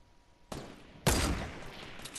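Two sharp gunshots ring out about half a second apart, the second louder and closer, each trailing into a reverberant tail, with the shooting aimed at a bush.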